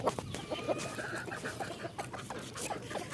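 Chickens being fed cluck and squawk busily and close up in a rapid, overlapping stream of short calls, with no one talking.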